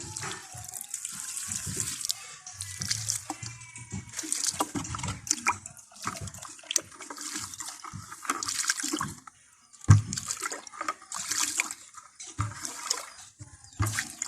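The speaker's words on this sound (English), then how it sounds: "and then we water it" Water poured onto a freshly planted plantain at home, splashing and trickling in uneven bursts close by, with brief pauses between pours.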